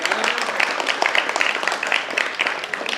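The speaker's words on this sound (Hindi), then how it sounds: "जोरदार तालियां हो जाए इनके लिए।" An audience at a theatre festival applauds a make-up artist, a lively, continuous rattle of many hands clapping at moderate distance for several seconds, with no voices over it.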